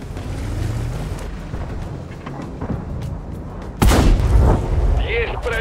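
Tank cannon fire in a Waffenträger tank video game, a single heavy boom bursting out loudly near the end over a rumbling engine and battlefield bed.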